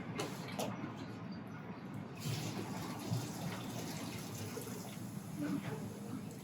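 A cup of water poured into a Dutch oven holding cranberries and sugar for cranberry sauce: a steady, splashy pour lasting several seconds, with faint voices in the background.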